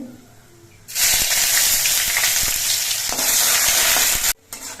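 Loud, bright sizzle bursts up as ginger paste hits hot oil with fried spices, crackling steadily for a few seconds before cutting off abruptly.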